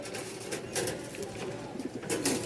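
Soft, low cooing of Giribaz pigeons repeats in a gentle rhythm over a rustling, busy background, fairly quiet and close.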